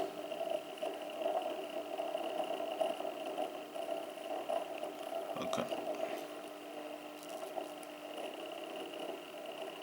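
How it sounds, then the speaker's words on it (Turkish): A bipolar stepper motor driven by AC voltage through a capacitor hums steadily with a buzzy, tonal drone and a faint rattle, holding fairly even throughout with a brief disturbance midway. "Bu step motorla da bu şekilde çalıştı."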